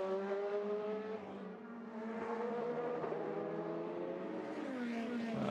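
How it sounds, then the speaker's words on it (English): An IndyCar race car laps in practice at Long Beach, its high engine note rising and falling through gear changes, steady and moderately distant throughout. "Pretty good run underway for James Winslow in that 26 machine."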